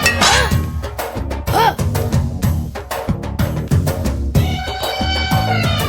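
A phone ringtone made of children screaming plays loudly and continuously, with shrill, wavering, overlapping cries rising and falling for several seconds.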